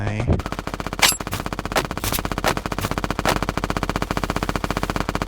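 An XM8 rifle fires in rapid sustained automatic bursts in a video game, loud and close, with a steady rapid rhythm of shots and a few sharper reports, no talk.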